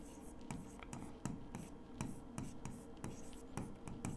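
Pen or chalk strokes scratch out handwriting during a trigonometry lesson, a quiet rhythmic series of short scrapes and taps, close and steady with no voice over them.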